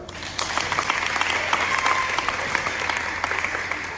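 Steady applause from an audience at a scholarship luncheon fills the whole stretch, dense clapping at an even level with no pause.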